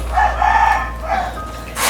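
A rooster crows once nearby in Thailand, a drawn-out wavering call, followed by a short burst of noise at the end.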